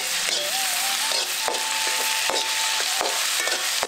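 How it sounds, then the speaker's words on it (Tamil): Onion, ginger and garlic sizzle and fry steadily in a hot pan, with intermittent scraping and stirring clicks of a utensil against the pan, a dense continuous hiss throughout with no talking. "இப்ப நம்ம எடுத்து வச்சிருந்த இஞ்சி பூண்டையும் சேர்த்து நல்லா வதக்க ஆரம்பிச்சிடலாம்."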